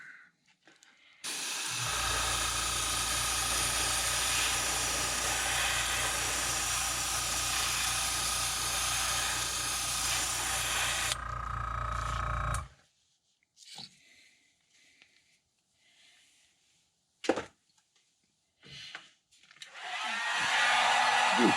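A heat gun sets paint on a custom-painted gizzard shad glide bait crankbait, a loud steady blowing roar lasting about eleven seconds before cutting off, followed by quiet handling clicks and a final burst of airflow.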